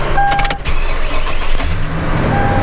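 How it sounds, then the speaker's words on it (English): A Toyota Tundra pickup with the 5.7-litre engine cranks and fires, then settles into a steady, close, even running note with no talk over it. "So just start the truck up,"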